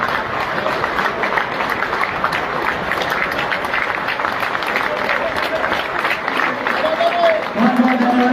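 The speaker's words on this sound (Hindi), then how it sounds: "सभी साथी जोरदार तालियों के साथ स्वागत करेंगे।" Crowd applause welcoming the chief minister at a contract-workers' conference in Karnal, a loud, continuous clatter of many hands, with voices rising over it near the end.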